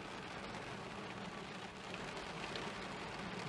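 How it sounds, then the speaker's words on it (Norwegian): Steady, dense rain hisses without a break, a broad wash of drops pattering on surfaces, fairly quiet and even. "Det regner veldig. Se hvordan det regner."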